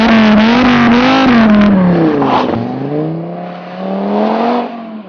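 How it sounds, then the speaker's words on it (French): Audi TT RS Roadster 2.5 turbo in sport mode, a loud, close exhaust note that revs up, holds and drops, rising again before easing off. "si on appuie sur la touche sport à côté du levier de vitesse, on a une sonorité à l'échappement encore plus démoniaque"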